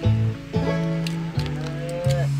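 Cows mooing in the farming video game Harvest Life: four long, loud, tonal moos follow one another closely, each a sustained low call that bends in pitch, with no talk over them.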